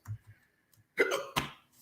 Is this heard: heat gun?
no